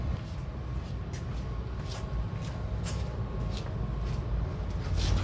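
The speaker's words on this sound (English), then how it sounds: "if you hear that noise in the background, that's just the heater" Basement heater running as a steady low rumble and broadband whoosh, a constant background drone with faint clicks and shuffles on top, no talking.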